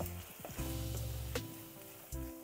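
Milk is stirred into potato shira, a sweet fasting dish, in a pan: a faint, quiet sizzle with a few soft scraping strokes against a low steady hum.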